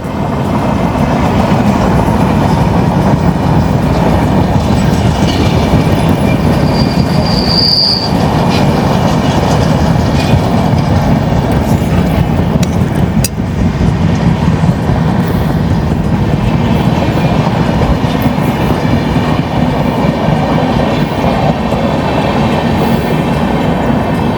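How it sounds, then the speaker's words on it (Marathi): The Mumbai–Lucknow Pushpak Express passes close by: a loud, steady rumble of railcars and wheels, with a brief high wheel squeal and faint clickety-clack running throughout, and no talk. "तर ही मुंबई लखनौ पुष्पक एक्सप्रेस होती"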